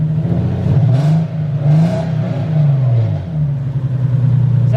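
A Nissan 300ZX with a Z1 single-exit exhaust idles with a low droning note and is revved several times, each blip rising and falling in pitch, close and loud, with no talk.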